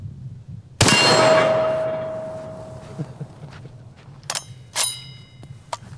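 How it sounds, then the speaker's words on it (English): A .300 Win Mag rifle shot strikes a steel target, giving one sharp, loud crack followed by a long ringing clang that slowly fades, with a few faint knocks and rustles afterward. "That's really the only target that I trust to take this bullet impact."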